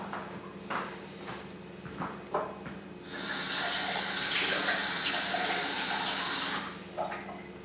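Tap water runs steadily into a container for several seconds, a broad continuous splashing rush that starts abruptly after quieter room noises and small clicks, then cuts off.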